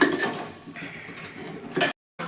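Masala being roasted on full flame in a pan for aloo matar sabzi, heard as a few quick metal scrapes and clinks of stirring, fairly soft and close, with a brief silent gap.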